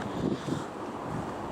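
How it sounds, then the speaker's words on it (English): Wind blowing outdoors as the weather turns breezy under low cloud, a steady rumbling rush with some microphone buffeting, fairly loud and unbroken. "it's now getting a bit windy"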